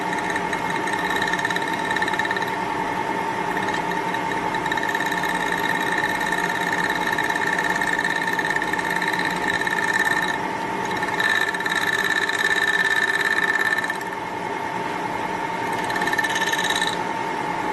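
Continuous mechanical whirring with a rapid rhythmic knocking, close and steady, as a gear in a 1942 Harley-Davidson WLA 45 cubic inch transmission turns and hits a high spot; no voices.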